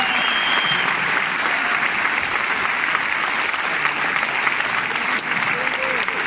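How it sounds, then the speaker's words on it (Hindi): Dense, loud audience applause fills a large convention hall in Delhi, a continuous roar of many hands that stays even throughout, with faint voices mixed in. "तालियां तालियां"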